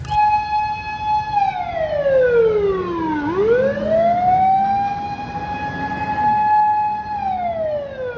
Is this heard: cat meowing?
no